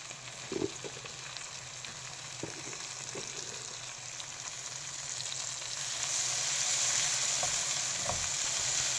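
Coriander leaves fry in a pan for Telugu fish curry, making a soft, continuous sizzle that swells louder in the last few seconds, with a few faint stirring taps.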